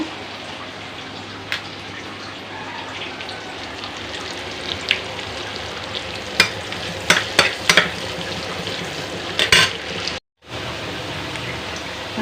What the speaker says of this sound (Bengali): এই মশলাটা কষি দিয়েছি